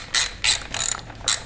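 A ratchet runs down bolts on a Harley-Davidson M-8 cam plate, four quick bursts of close, crisp clicking spaced across a short moment with no voices.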